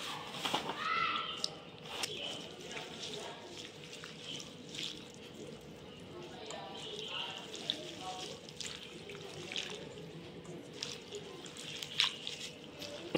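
Gongura leaves being washed in water in a kitchen, with a steady running-water wash and splashing throughout, close and moderately loud, with occasional faint voice in the background.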